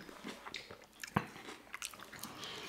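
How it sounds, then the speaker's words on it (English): Close, crisp biting and wet chewing of salad bar food at a home mukbang eating show, with soft irregular crunches and one sharper bite standing out, no talking. "Sell it, Loki, make my jaws hurt from chewing."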